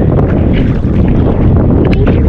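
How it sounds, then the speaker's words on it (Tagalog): Strong wind roars and buffets the microphone continuously while fishing, a loud steady rush with no voices. "Malakas yung hangin pa talaga."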